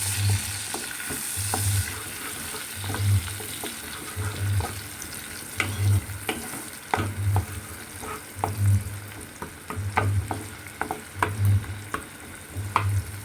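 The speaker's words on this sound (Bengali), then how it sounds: "পেঁয়াজ বাটা দিয়ে একটু সামান্য নাড়িয়ে চাড়িয়ে" Onion paste fries in a pan while being stirred, a close, steady sizzle with a regular rhythm of scraping strokes roughly every second and a half, plus occasional sharper clicks; no voices.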